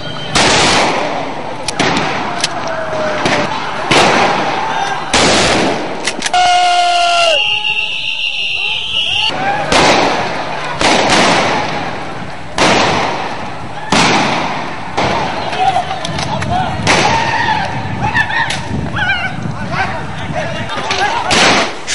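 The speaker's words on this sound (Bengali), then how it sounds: "শাপলা চত্বরে ঢুকেই ফাঁকা ফায়ার করে হেফাজত কর্মীদের ছত্রভঙ্গ করার চেষ্টা করে আইন শৃঙ্খলা বাহিনী" Security forces firing blank rounds to break up a rally at Shapla Chattar in Motijheel, Dhaka: repeated loud bangs burst over a noisy, shouting crowd, with a brief high-pitched whine in between and constant chaotic commotion.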